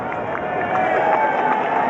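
Racecourse crowd at Ascot applauding and cheering as a horse and jockey return, a broad continuous wash of distant clapping and voices over a couple of seconds.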